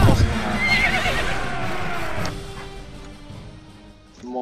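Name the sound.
horse neighing while riding, Mount and Blade Warband video game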